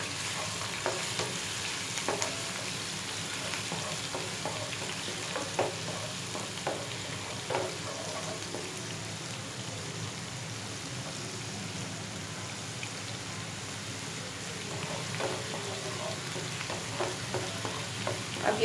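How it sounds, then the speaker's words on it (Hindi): Ginger and garlic paste fries in hot oil, a steady close crackling sizzle with occasional stirring scrapes and no voices throughout. "मैंने इसे थोड़ा सा फ्राई करना है।"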